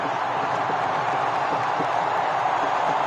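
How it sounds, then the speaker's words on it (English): A cricket stadium crowd at an ICC tournament final cheering as the chase nears its end: a dense, continuous roar of many voices at a steady level throughout. "now the crowd beginning to cheer"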